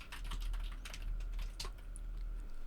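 Someone types a password on a computer keyboard, tapping a quick, uneven run of soft, close keystrokes over a low hum.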